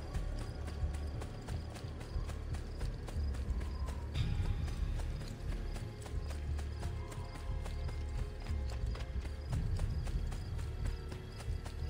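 Horse hooves clip-clopping at a steady, quick trot in the video game Assassin's Creed II, a continuous rhythmic clatter over low ambient rumble, with no talk.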